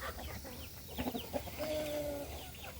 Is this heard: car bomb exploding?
no